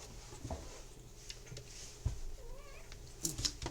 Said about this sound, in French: C'est les chats, ils aiment bien se manifester quand il ne faut pas.